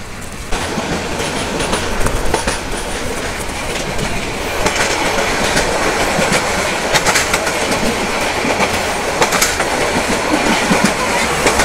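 The Mohanagar Provati Express runs from Dhaka to Chittagong in the rainy season with a loud, continuous rumble and rhythmic clickety-clack of wheels over rail joints, with occasional sharper metallic bursts.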